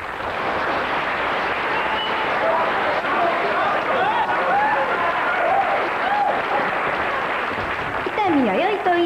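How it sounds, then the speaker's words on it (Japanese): Applause for Sato and Itami at the end of a psychology experiment, a steady wash of clapping running throughout with voices talking over it, and a rising cheer near the end. "佐藤君と伊丹さんに拍手をお願いします"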